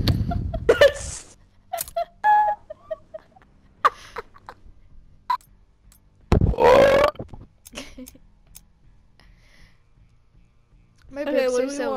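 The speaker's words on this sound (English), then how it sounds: "My burps are so weird sounding" Someone burps several times in a room, a few short belches and one long loud drawn-out burp, with scattered talk and a final voiced grunt-like sound.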